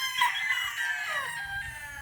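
A rooster crows in a backyard chicken coop, one full crowing call rising and trailing off near the microphone, with soft clucking from other fowl underneath and no talk.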